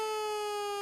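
A steady electronic siren sounds at a horse racing track during a 1660-metre race, holding one continuous tone loud and alone for the whole moment with no voices.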